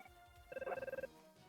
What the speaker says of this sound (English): Okay, another phone call.